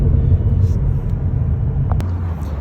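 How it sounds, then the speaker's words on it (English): Low, steady road rumble inside a Tesla Model S Plaid rolling on new tires, a dense drone of tire and road noise heard from the cabin, with a brief faint tick near the end. "we will compare the noise in the car with the new tires"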